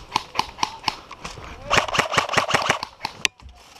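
Airsoft guns fire in rapid irregular bursts during an outdoor game, sharp close pops clustering into quick volleys, with voices talking among the shots.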